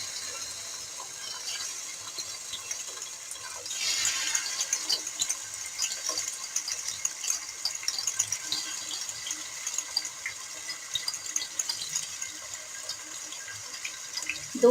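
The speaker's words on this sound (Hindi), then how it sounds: "अब यहाँ मैरिनेट की हुई चिकन, इसके हम पीस उठाएंगे और इसको शैलो फ्राई करेंगे।" Marinated chicken pieces shallow fry in hot oil, giving a steady, fairly faint hiss with scattered crackles and pops that thicken after a few seconds, close by and without talk.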